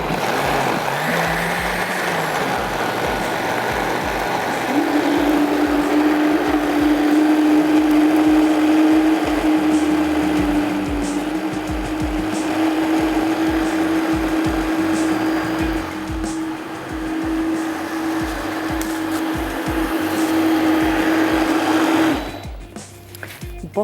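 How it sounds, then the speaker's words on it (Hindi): A kitchen blender grinds mango, milk and moong dal, a loud continuous motor whir with a steady high whine, running almost the whole time before cutting out near the end, with no talking. "और यहाँ पर मैं ब्लेंड करने जा रही हूँ आम,"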